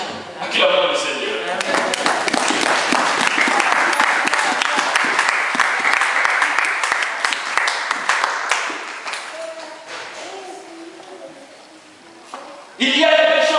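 Church congregation applauding during a Sunday sermon, a loud, dense wave of clapping that runs for several seconds before tapering off, with a voice heard as it fades.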